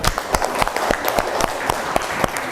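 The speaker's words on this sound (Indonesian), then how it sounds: "Kita berikan tepuk tangan kembali untuk kelompok 4." A school class applauds a student group after their presentation on ideologies, brisk, fairly loud clapping with distinct sharp claps over a dense patter for a few seconds.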